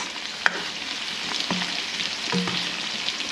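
Mushrooms and asparagus sizzle in a pan with bits of chicken, a continuous moderate frying hiss broken by a few light utensil taps against the pan, with no one talking.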